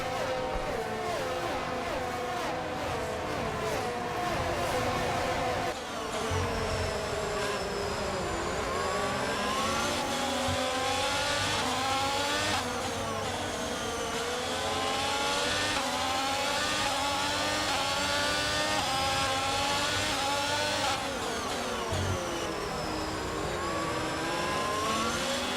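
F1 cars in the F1 22 video game race at the Mexico Grand Prix, their high-pitched engines screaming and revving continuously as they pass and shift gears, with several cars overlapping and no talk over them.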